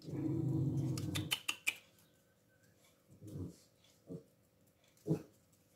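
A female dog reacts to a neighbour leaving, with a loud growling, whining outburst up front, then a few sharp huffs and short grumbles spaced out in the quiet that follows.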